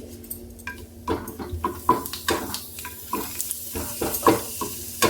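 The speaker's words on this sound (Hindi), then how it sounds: "तो ऐसा सभी को हम तल के निकाल लेते हैं।" Stuffed three-layer paratha frying in hot oil in a kadhai, a steady close sizzle broken by repeated clinks and scrapes of a spatula turning and lifting it.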